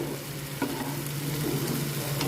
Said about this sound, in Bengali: এখানে আমি মশলাটাকে ভালো করে ভেজে নিলাম